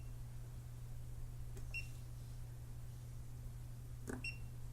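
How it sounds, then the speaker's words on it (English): A Hioki DT4252 multimeter beeps when it detects voltage, two short, clear electronic chirps a couple of seconds apart over a steady low hum, with no talk. "you do get a nice beep when it detects the voltage like that"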